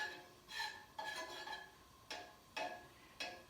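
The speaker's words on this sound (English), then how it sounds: "I'm just using my little knife here and just moving it around so that the butter will melt and that it covers the pan evenly." A small knife scrapes and pushes melting butter around a pan while making a quesadilla in a home kitchen. About six short, quiet metallic strokes come in an uneven rhythm, with no talking.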